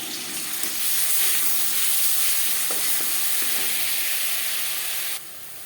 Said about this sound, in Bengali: তেল গরম হয়ে গেছে। এবার দিয়ে দেব